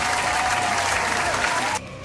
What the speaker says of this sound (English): Okay, it's applause.